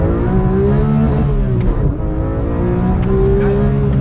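Porsche 911 GT3 Touring engine revving hard in first gear after a rev-matched downshift, a loud, continuous rising engine note close by with some speech mixed in.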